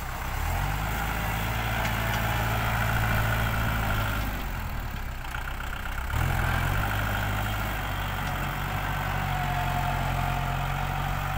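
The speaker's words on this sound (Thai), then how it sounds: "รถไถคูบาต้า" A Kubota L5018 tractor engine pushing soil on a worksite runs in a steady, continuous low drone, close and loud, with one brief dip in the middle and no talking.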